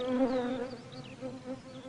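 A hoverfly, a wasp-mimicking fly, hums steadily and close while visiting lesser celandine blossoms beside water in spring, its buzz wavering in pitch with no voices present.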